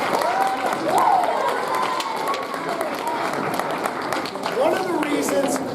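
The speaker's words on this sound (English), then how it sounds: "Big round of applause for my friends." Students at the Wethersfield School clap together in a steady, moderately loud round of applause, with young voices calling out over the dense patter.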